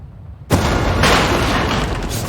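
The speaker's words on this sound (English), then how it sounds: "Already, there was an explosion." A sudden explosion in the digital board game Flash Point: Fire Rescue bursts in after a quiet start, then rumbles on as a loud, dense roar to the end.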